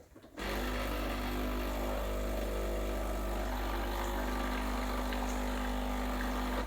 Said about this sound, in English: You can use the hot water spout right here.